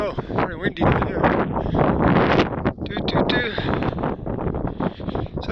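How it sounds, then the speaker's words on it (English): Strong outdoor wind buffets the microphone in a steady, loud roar that stays constant throughout, with a person talking over it the whole time. "Very windy down here."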